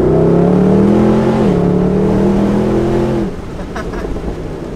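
A Mercedes SLS AMG Roadster with 571 hp pulls hard under acceleration, its engine droning loud and steady with a brief gear-change dip before the note drops away into lighter rumble.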